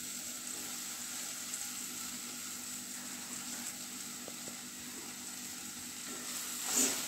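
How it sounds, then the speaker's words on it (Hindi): Chopped spring onions frying in a pan with a steady soft sizzle and occasional faint stirring, close and fairly quiet, and a brief louder scrape near the end. "ये देखिए अभी हमारे ये प्याज ऑलमोस्ट भुन गए हैं।"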